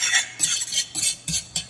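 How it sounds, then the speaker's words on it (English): Onions, carrots and celery being stirred in a pan over a lit front burner, a series of short scraping, rustling bursts about every half second, fairly close and alone with no talk. "Let's go ahead and continue to stir this up."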